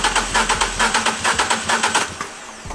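Fiat 500 engine cranking with a rhythmic starter churn through most of the stretch, then catching briefly near the end; loud and close, with no talk over it.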